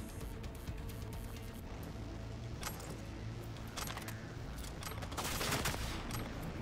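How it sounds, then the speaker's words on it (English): Rapid gunfire in Cyberpunk 2077, bursts of sharp cracking shots repeating in clusters over a busy game backdrop, growing denser toward the end. "Oh, who's shooting?"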